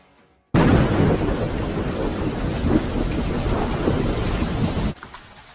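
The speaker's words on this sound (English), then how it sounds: "It's raining hard." Heavy rain pours down in a deep jungle with rumbling thunder, a dense, loud hiss that starts suddenly and cuts off after about four seconds.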